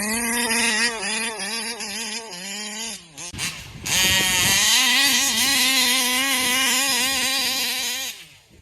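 Taylor RC 35V1R model engine revving hard, a loud, high-pitched buzzing whine that climbs smoothly, drops out briefly, then surges back up and holds steady near full speed without flutter.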